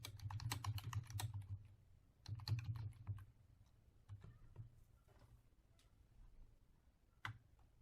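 Typing a prompt on a computer keyboard, with close, quiet bursts of rapid key clicks, pauses between bursts and a few isolated keystrokes near the end.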